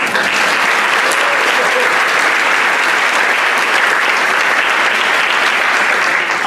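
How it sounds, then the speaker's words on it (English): A full house at the Skipworth Performing Arts Center applauds the Mississippi Lions All-State Band's 2023 performance: loud, dense, unbroken clapping that holds steady for several seconds, with crowd voices blended in. "I'm so proud you remembered to clap from last year."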